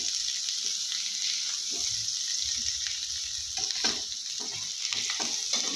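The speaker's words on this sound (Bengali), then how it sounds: "একটু পোড়া পোড়া করে নেব, পাতাগুলো একটু পোড়া পোড়া হলে না খেতে বেশি ভালো লাগে।" Pumpkin leaves and chicken fry in a little oil in a pan until charred, giving a constant bright sizzle broken by intermittent stirring scrapes.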